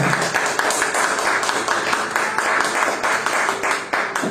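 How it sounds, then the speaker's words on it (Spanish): A church congregation at a Friday teaching service claps loudly and steadily for the Lord, a dense, even burst of applause filling the whole moment with no clear voice over it. "Denle un aplauso al Señor."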